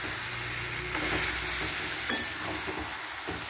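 Topa kul (plum) chutney with jaggery frying in a pan over a very low gas flame, a steady soft sizzle with an occasional spoon scrape as it is stirred now and then.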